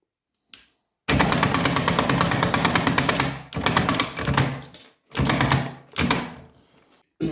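An Ego Power+ string trimmer with Powerload spins up to rewind its line, giving loud, close mechanical whirring bursts with a rattling motor buzz, one long run then several shorter pulses separated by silence.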